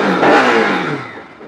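A used motorcycle, single owner with about 11,000 km on it, is revved at a dealer in Barasat, Kolkata. The engine roars close and loud, then fades away as the revs drop.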